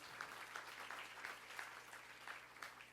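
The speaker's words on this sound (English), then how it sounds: "May I have a huge round of applause?" Audience applause at the inauguration of a hysterectomy summit, a steady dense patter of clapping throughout, moderately distant and even in level with a faint hum beneath.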